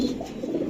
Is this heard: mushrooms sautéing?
no